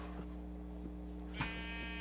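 A sheep in the video game Minecraft gives a single short bleat partway through, heard over a steady low hum of the game's background sounds, with no talking.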